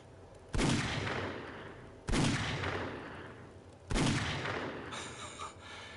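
Three loud, evenly spaced gunshots, each followed by a brief decaying boom, fired at a bear in the survival game 7 Days to Die.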